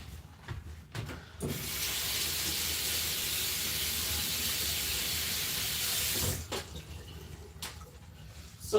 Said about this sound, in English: So I just washed the breadfruit.